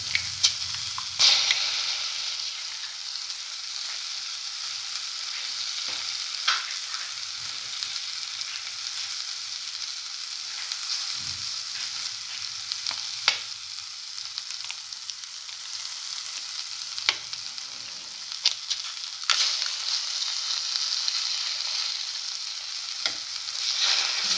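A scrambled egg with cinnamon frying in a pan, giving a steady, fairly loud sizzle that runs throughout with occasional stirring scrapes and clicks, and no one speaking.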